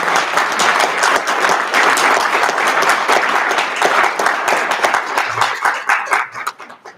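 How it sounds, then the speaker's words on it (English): Sustained applause from an audience at a Peoria district candidates forum, dense and loud clapping that carries steadily before thinning out near the end. "And now you may applaud"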